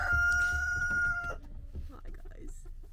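Chickens rousing in their coop on a winter morning, with a clear rooster-like crow ringing out over the first second and a half, followed by scattered softer clucks and a person talking quietly nearby.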